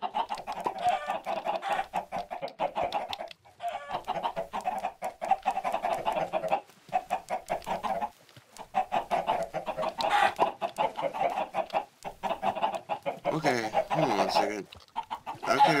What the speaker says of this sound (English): I kinda sick of these chickens.